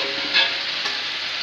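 Chicken pieces frying in a pan while a chicken potato curry is cooked, giving a steady close sizzle and crackle with no talking.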